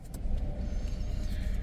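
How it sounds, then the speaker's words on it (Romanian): The engine of a new Dacia Duster car, a 4x4 version, starts up quietly and settles into a low, even hum, heard close from inside the cabin with no one talking. "Haideți să și pornim mașina"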